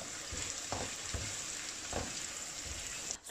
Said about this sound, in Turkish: Şimdi hepsini kavurmaya devam ediyorum.